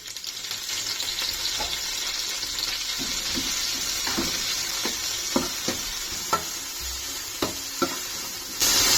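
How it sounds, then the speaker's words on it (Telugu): Onions, green chillies and a handful of mint fry in a pan for Telangana-style bagara rice: a steady close sizzle with a run of sharp metal clicks and scrapes from stirring, no voices. "ఉల్లిపాయ కొంచెం వేగింది పచ్చిమిరపకాయలు ఉల్లిపాయలు పోలిన తర్వాత ఒక బుప్పటి పుదీనా వేస్తున్నాను"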